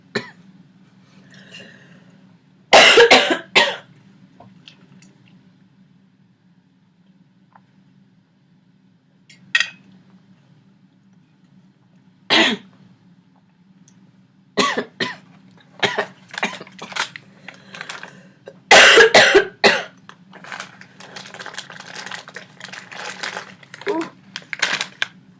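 Several sharp coughs come in bursts, some doubled, separated by quiet stretches with faint clicks and small handling noises.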